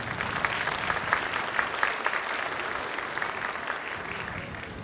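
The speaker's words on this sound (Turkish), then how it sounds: "Kendisini bir alkışlamanızı rica ediyorum." Audience applause at a vocational school graduation ceremony, a continuous crowd of clapping hands, moderately distant and steady, gradually softening toward the end with no talking over it.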